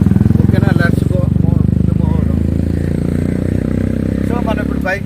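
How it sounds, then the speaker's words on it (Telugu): A motorcycle being ridden near Vizag, its engine droning loud and steady the whole time, with a voice talking over the close rumble. "సో మనం ఇప్పుడు బైక్ మీద వెళ్తున్నాం."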